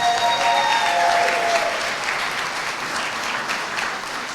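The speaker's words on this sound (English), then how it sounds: "So can we give our scholars another round of applause?" Audience applause for student scholars at a school reception, a loud, dense burst of many hands clapping that slowly tapers, with a brief whistle-like tone near the start.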